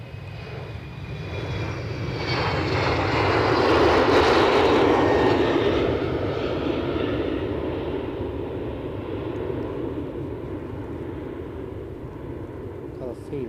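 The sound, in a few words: Embraer 190 airplane taking off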